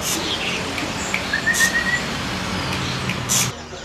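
Birds in a bird shop chirping and whistling, several short bright calls and a thin sustained whistle scattered over a steady background hum, fairly close and moderately loud.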